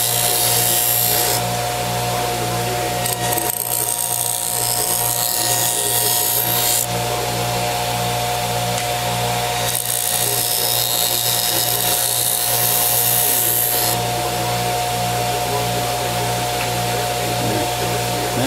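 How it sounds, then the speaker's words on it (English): A buffer wheel spins loud and steady with a deep motor hum, taking the burr off a freshly sharpened trapping tool, and the pressing contact brightens and rasps in two long passes of a few seconds each. "this buffer wheel is just for getting that burr off"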